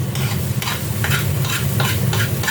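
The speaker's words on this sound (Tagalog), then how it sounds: "Yan ang pagluluto ng kalderita guys." Egg kaldereta sizzles steadily in a frying pan as it is stirred, with repeated scraping strokes about every half second over the constant close frying hiss.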